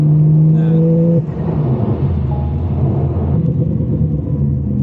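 An upgraded Porsche 992 Turbo S Convertible engine revs and then settles into a deep, rumbling exhaust drone, loud and steady, with a brief whine early on.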